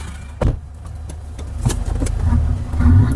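Engine of a 2021 Mitsubishi Triton four-door pickup revs in short blips over a steady idle, each burst swelling loudly before settling back, heard close up.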